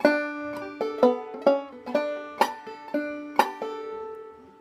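A clawhammer banjo plays a slow phrase from a tune, with bright, plucked notes and brushed strums ringing in an unhurried rhythm, close and fairly quiet with no talking.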